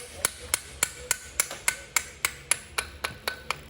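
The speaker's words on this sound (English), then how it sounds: "So just use my hammer and lightly tap it through all the way." A hammer lightly taps a metal pump part in a steady series of about fourteen sharp, ringing strikes, evenly spaced and close by, with no talking.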